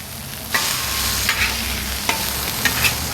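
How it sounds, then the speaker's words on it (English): Sausages sizzle steadily on a Blackstone griddle, with a few sharp scraping clicks from the spatula as they are flipped, close and fairly loud throughout. "Let me go ahead and flip these sausage."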